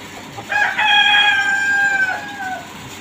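A rooster crows once, a long drawn-out call with a rising start and fading tail, close and clear over faint background noise.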